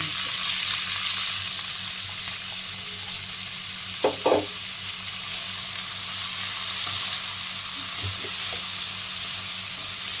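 Two large chopped onions frying in hot white oil, a steady loud hissing sizzle throughout with a brief stirring clatter in the middle.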